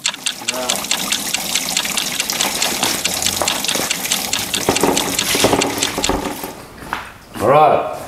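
Water gushes and drains steadily from the radiator of an old REO Gold Comet ramp truck, a loud continuous splashing flow under intermittent talk, ending with a burst of speech.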